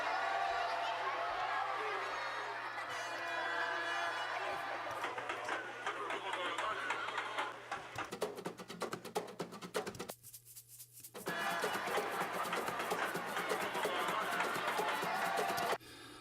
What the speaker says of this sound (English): This first sample, it's a recording of a crowd within the carnival.